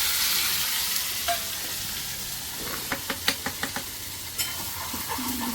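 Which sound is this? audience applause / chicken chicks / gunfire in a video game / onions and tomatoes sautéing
onions and tomatoes sautéing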